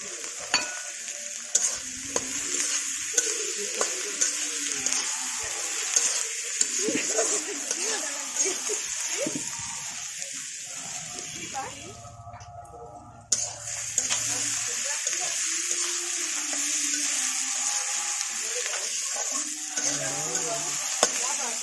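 Chopped tomato fries in a pan with a steady, loud sizzle and repeated stirring scrapes for about twenty seconds, broken by one brief quiet gap.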